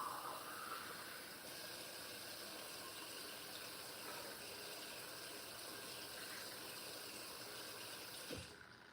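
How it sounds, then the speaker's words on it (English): Water gushes steadily into a container, a continuous soft hiss and rush that runs unbroken for several seconds before a brief low thump near the end; no one speaks. "Okay, so we filled the water to a little circle"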